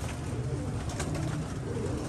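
Pigeons coo close by in a continuous, overlapping low warble that stays steady throughout, with no one speaking.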